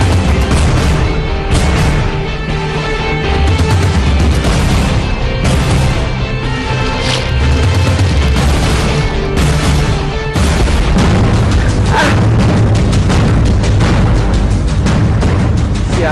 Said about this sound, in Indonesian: Ternyata diduga bom, ternyata akhirnya meledak juga di warung.